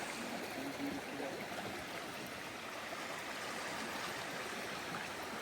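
Strong river current flowing steadily at a fishing spot in Manitoba, a continuous broadband rush of water that stays even and close throughout, with no talk.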